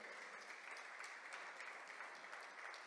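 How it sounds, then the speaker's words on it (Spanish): Church congregation applauding in praise during a Spanish-language sermon, a dense, even wash of clapping that holds steady throughout, fairly quiet and distant. "Déselo fuerte el aplauso a nuestro Señor."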